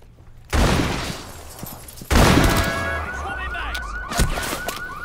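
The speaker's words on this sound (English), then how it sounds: "Oh, I'm getting shot in the back." Enemy gunfire striking the player from behind in Rainbow Six Siege, arriving as two loud, abrupt bursts of shots followed by a trailing ringing tone and a further sharp hit near the end.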